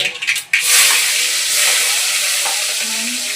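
Chopped green chilies dropped into hot oil already crackling with cumin seeds, a steady bright sizzle and spitting hiss close up, rising sharply after an initial burst and holding loud, with no talking.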